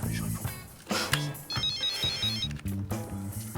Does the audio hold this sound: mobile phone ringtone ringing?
yes